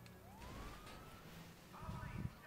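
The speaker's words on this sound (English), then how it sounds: "Oh, I can hear sirens." A police siren wails faintly in the distance in the video game GTA 5, one rising and falling sweep heard under quiet talk.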